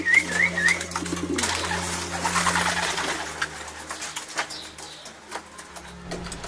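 Racing homing pigeons coo softly at close range in a loft, with low, repeated throaty calls and a brief whistle-like sound near the start, amid faint background noise.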